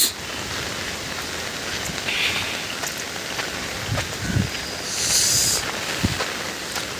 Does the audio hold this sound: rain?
yes